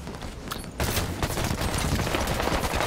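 Video-game gunfire in a multiplayer shooter, a sudden loud burst of rapid automatic shots that carries on as a continuous fusillade after a brief quieter start.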